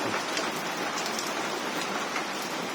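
Heavy rain pours steadily outside beside a house in Wang Noi, a dense, even hiss of falling water with no voices.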